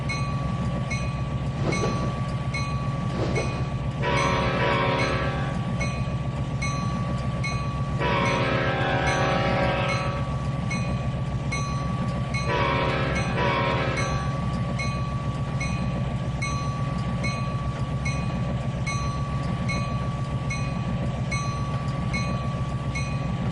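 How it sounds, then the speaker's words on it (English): A train in the video game Trainz 2019 rumbles along steadily with a constant mechanical drone, and a few brighter bursts of horn-like tones sound at intervals. "A couple switches to go through. You know, stuff. Train stuff."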